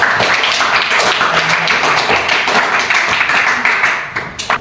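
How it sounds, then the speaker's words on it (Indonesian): Classmates in an Indonesian classroom clap together after a group presentation, a dense, close burst of many hands that holds steady and then tapers into a few scattered claps at the end. "Ayo kita berikan tepuk"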